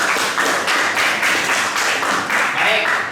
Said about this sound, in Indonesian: Nah, kasih aplaus.